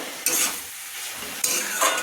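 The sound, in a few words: cabbage being fried and stirred in a pan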